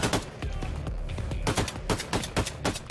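Rapid gunfire from the shooter video game Wolfenstein: The New Colossus, a dense string of sharp shots in quick bursts, fairly quiet overall.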